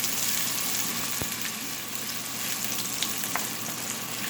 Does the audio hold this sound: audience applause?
no